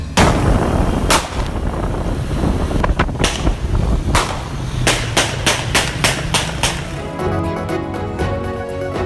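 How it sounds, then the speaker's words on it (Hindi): Sharp, loud gunshots crack out in daylight on a main road in Lahore, in irregular bursts, some isolated, then a rapid cluster of rounds, with no talking. "लाहौर की अहम शाहराह पर दिन दिहाड़े गोलियों की तड़तड़ाहट।"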